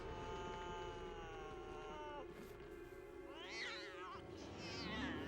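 A cat meows in a scene from the TV show Buffy the Vampire Slayer, a drawn-out tonal cry followed by a couple of shorter rising and falling meows over a low background hum.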